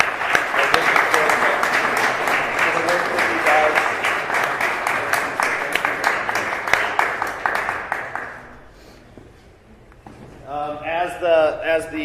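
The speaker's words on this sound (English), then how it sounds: "Let's give him a round of applause for the work" An audience at a book launch applauds with a thick, sustained round of clapping that fades out after about eight seconds, followed by someone speaking.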